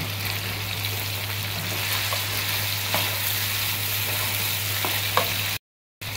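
Chicken and mushrooms sizzle and fry in a pan for chowmein, a steady hiss broken by occasional scraping stirs, close and even throughout with a brief dropout near the end.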